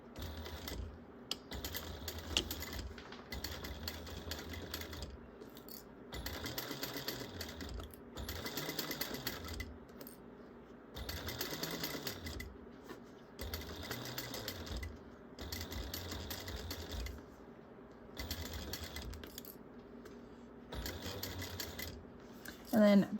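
A sewing machine stitches around a bag at a 1/8 inch seam allowance, running in repeated bursts of steady mechanical whirring separated by short pauses, with a voice talking over parts of it.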